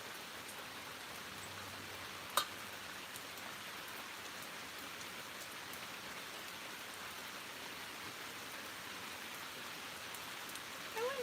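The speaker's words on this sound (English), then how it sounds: "Nice to have rain." Steady rain falls outdoors as an even, soft hiss of drops on surfaces, continuous and fairly quiet, with one brief sharp tap partway through and no talking.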